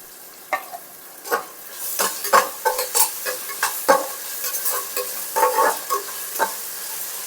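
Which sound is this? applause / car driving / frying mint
frying mint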